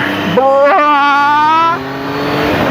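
A 2019 Triumph Tiger 800 XCX motorcycle pulls onto a highway, its engine note rising steadily as it accelerates through the revs, then dropping back to a lower drone with wind noise.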